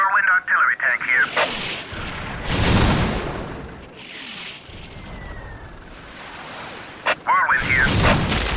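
Whirlwind artillery tank from the video game Warhammer 40K: Dawn of War launching heavy booming salvos mid-clip, loud and rumbling, with unit voice lines and clipped game chatter before and after the blasts.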